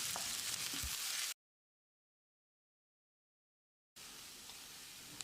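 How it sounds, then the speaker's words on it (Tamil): Finely chopped onions with curry leaves fry in oil in a pan, a steady, close sizzle that cuts off into silence for a few seconds before the frying resumes. "வெங்காயத்தை செவந்து வர்ற அளவுக்கு வதக்கிடலாம்."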